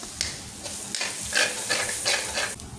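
Spice powders, chicken masala and ground pepper, sautéed for a chicken curry, giving a soft steady sizzle with several scraping stirs of a spoon in the pan, fairly quiet and without talk.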